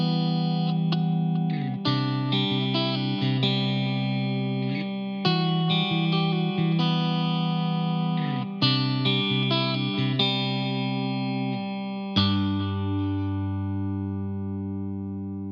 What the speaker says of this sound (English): the pickups do rock and metal tones really well